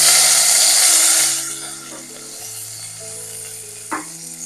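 Small shallots, garlic and ginger sautéed with cumin and curry leaves give a loud, bright sizzle at first that quickly settles into a softer frying hiss, with steady background music tones running throughout.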